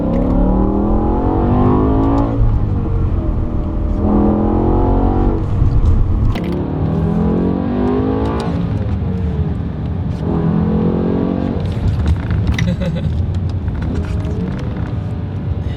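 A BMW E60 M5's V10 engine with a single-clutch SMG transmission accelerates hard, its loud rising howl climbing repeatedly and breaking briefly at each gear shift, steady and continuous throughout.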